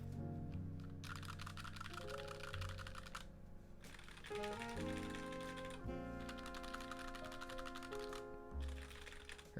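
Typing on a Drop Alt High Profile mechanical keyboard fitted with Gateron Yellow switches: dense, rapid keystroke clatter in bursts with short pauses, heard over background music.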